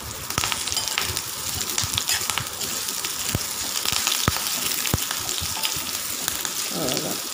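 Mustard seeds crackling and frying in hot oil while cooking crispy chena kilangu (elephant foot yam) varuval, a steady sizzle with scattered sharp pops throughout, close and continuous, with no one speaking.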